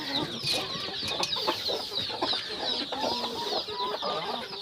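Chickens cluck and squawk in a busy flock during feeding, with overlapping calls throughout, fairly close and steady, with occasional scuffles.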